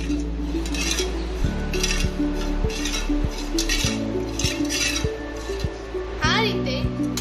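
A spoon stirs sugar and spice powder into shikanji, clinking against the glass or vessel in steady repeated taps over a low background hum, with a faint voice in the background.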